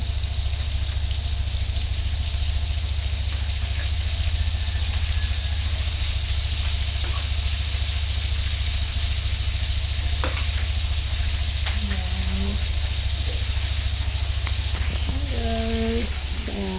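Oil sizzles steadily in a frying pan throughout, a constant hiss near and fairly loud, with a few brief clinks and scrapes near the end.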